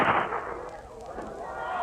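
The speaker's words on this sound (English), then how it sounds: "Well, I hope you ain't fixing to shoot again, Big Sam, with that shooting iron." An old shooting iron fires once in a staged frontier scene, a sharp, loud report that fades into a short, ringing tail.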